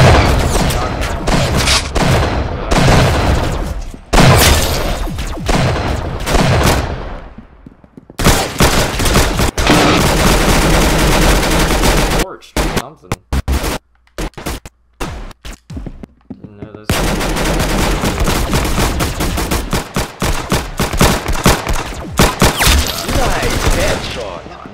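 Rapid bursts of gunfire in a Roblox shooting game, dense loud volleys that stop and start again, with brief gaps of near silence and occasional voice underneath.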